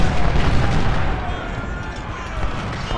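Cannon artillery booming across a Civil War battlefield in Ultimate General: Civil War, a loud rumbling barrage of overlapping blasts that fades slightly, with someone talking over it.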